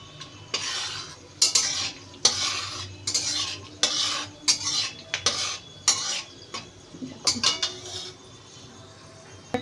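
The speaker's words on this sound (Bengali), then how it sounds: "ফোড়নে দেবো, এ দেখো, লবঙ্গ, এলাচ, দারচিনি, গোলমরিচ" Whole cloves, cardamom, cinnamon and peppercorns fry in ghee and oil, a soft sizzle broken by repeated bursts of a metal spoon scraping and clattering against the pan, close and irregular, with no talking.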